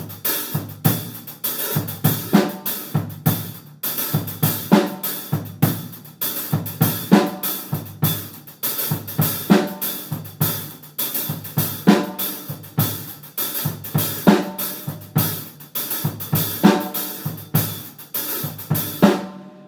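A calypso drum groove plays throughout, built on an accented hi-hat pattern over a pulsing heartbeat-style kick with snare hits, repeating in a steady, lively rhythm and close, clear without any talking.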